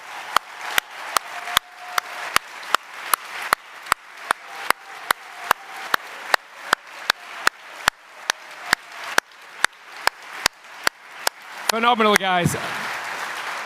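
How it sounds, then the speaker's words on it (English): Applause for students at the F1 in Schools World Finals awards ceremony at Silverstone, heard as steady, evenly spaced claps close to the microphone, with someone speaking briefly near the end. "Let's give you a massive round of applause."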